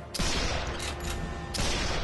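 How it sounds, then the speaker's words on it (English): Gunfire in the video game Sniper Elite 3: loud bursts of shots crack out in quick succession, with a short gap and then another heavy volley near the end, filling the space with no voices. "Ah, where am I getting shot at from?"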